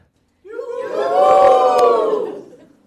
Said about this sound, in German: Ich zähle jetzt bis drei und dann jubeln Sie mal, okay?